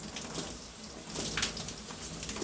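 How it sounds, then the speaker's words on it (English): Shower water from a Panasonic single-point water heater runs in a steady, soft hiss with faint splashes, quiet and close, with no voices. "A great day starts with a refreshing, warm shower."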